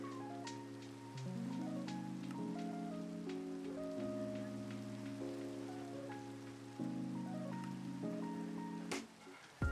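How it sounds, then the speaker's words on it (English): Steady rain falls in the Minecraft video game, a soft, even hiss running beneath sustained musical tones with a few faint clicks. "Rain, I just cannot abide."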